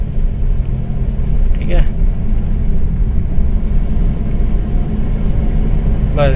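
Steady low road rumble from inside a moving car, with a dense engine and tyre drone continuing throughout while someone speaks briefly over it.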